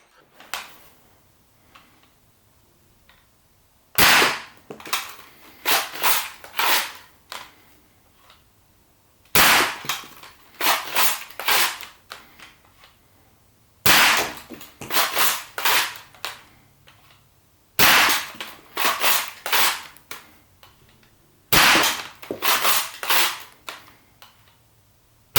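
A Dart Zone Nexus Pro foam dart blaster, shooting Dart Zone Bamboo and Pro darts, fires in six sharp bursts of rapid snapping shots a few seconds apart, loud and close, with near silence between volleys.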